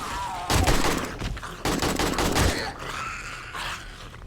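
AK rifle fire in 7 Days to Die, loud close bursts of rapid automatic shots in two main volleys with brief gaps, followed by quieter fading noise.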